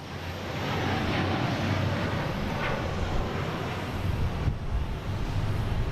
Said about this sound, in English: And a Delta. A330-900 heading to Madrid.